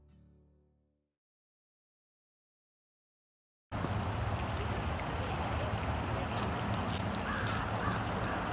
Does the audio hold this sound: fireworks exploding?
no